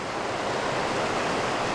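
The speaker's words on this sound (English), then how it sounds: "Look at this river just carving away through the landscape" Poudre River rushing through a Colorado Rocky Mountains canyon near Rustic during flash flooding: a steady, dense roar of churning water, loud and continuous with no voices.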